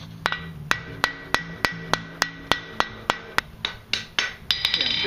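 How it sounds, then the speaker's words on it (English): A blacksmith hammers the corners of a forged steel letter opener taper, giving a steady run of sharp, ringing metallic strikes, about fifteen evenly spaced blows close by, speeding slightly near the end, with no talking. "Notice how I'm hammering on the corners right now."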